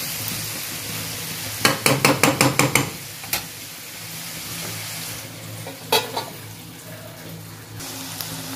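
Pizza topping vegetables, including spring onion greens, crackle and sizzle in a pan, opened by a quick run of rhythmic spatula clanks, then a softer continuous fry with an occasional scrape.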